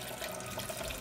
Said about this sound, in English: Let me try putting them under the hot tap for a little minute.